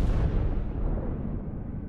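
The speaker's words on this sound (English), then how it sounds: "there was an enormous explosion that got bigger and bigger and bigger" Deep, sustained rumbling roar of the Castle Bravo nuclear test blast, a multi-megaton explosion, loud and continuous with no voices.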